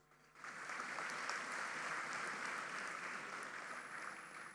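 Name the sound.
graduation ceremony audience applause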